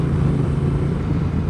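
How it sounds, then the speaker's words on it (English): An Indian Super Scout motorcycle with a Kaufman exhaust, a deep steady engine rumble, loud and close, with no talk. "that thing sounds so good. I love that Kaufman's exhaust"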